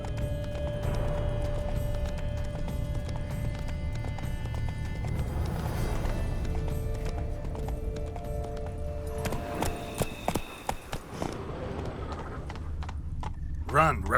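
In The Witcher 3: Blood and Wine, the horse Roach gallops through countryside, hooves beating steadily beneath music and a spoken voice, with a few sharper knocks near the end.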